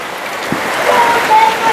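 Heavy rain pours down during a storm at a house, a loud, constant wash of hissing water with no breaks and no voices.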